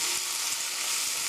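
Cheese omelette egg mixture, seasoned with ground black pepper, stirred gently in a pan, giving a steady close sizzle with soft frying crackle throughout, no voices.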